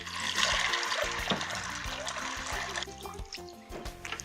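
Ten cups of water poured into a crockpot for red bean soup, a steady splashing, gurgling pour heard up close and fairly loud, slowly easing off toward the end.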